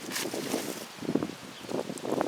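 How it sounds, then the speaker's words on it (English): Cold wind gusting outdoors in a garden among plants, a steady broadband rush with a few stronger buffets against the microphone, fairly close and moderately loud with no talking. "it's quite a cold wind, my goodness"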